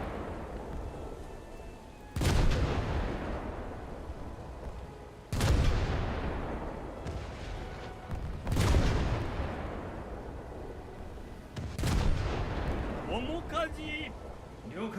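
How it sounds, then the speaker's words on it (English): Naval gunfire in a low-tier warship battle game: four heavy booming salvos roughly three seconds apart, each with a long rumbling decay, with a steady engine and sea drone between shots. "Although it seems I'm about to take return fire."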